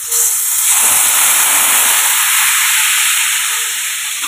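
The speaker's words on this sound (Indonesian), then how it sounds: "Nah ini selanjutnya kita panaskan minyak ya. Lalu kita tumis" A ground spice paste goes into plenty of hot oil while cooking Jogja-style gudeg with beef tendon, setting off a loud, sudden, sustained hiss of frying that stays near and steady before easing slightly, with no voices.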